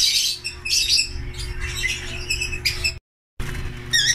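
African lovebirds in a flight cage squawk and chirp in repeated sharp bursts, close and busy, with a brief silent gap before the calls resume.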